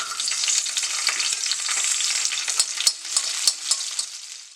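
Raisins frying in hot ghee for semiya payasam, giving a bright, crackling sizzle close by, with a few sharper pops and stirring clicks toward the end.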